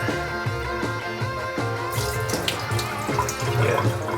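Water pours steadily through a sieve holding frozen reef fish food in a continuous splashing rush, close by, growing slightly louder and fuller toward the end.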